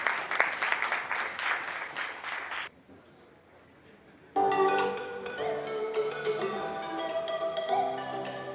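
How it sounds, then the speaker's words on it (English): Audience applause at an architecture and interior design debate event in Pune, a burst of clapping that drops into near quiet, then a louder stretch of clapping with music or crowd sound filling in. "Some round of applause from the ones who have spoken."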